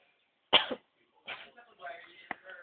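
A single sharp cough or throat-clear bursts out nearby, followed by quiet murmured talk and a brief click.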